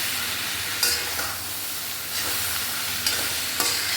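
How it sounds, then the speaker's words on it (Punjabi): Potatoes being stirred into eggplant in a cooking pan, a steady close sizzle and frying hiss with a few soft scrapes of the spoon against the pan, no voices. "ਹੁਣ ਆਪਾਂ ਇਹਦੇ ਵਿੱਚ ਪਾ ਦਾਂਗੇ ਬਟਾਉਂ ਚੰਗੀ ਤਰ੍ਹਾਂ ਦੋਨੋਂ ਚੀਜ਼ਾਂ ਨੂੰ ਹਿਲਾ ਲਾਂਗੇ"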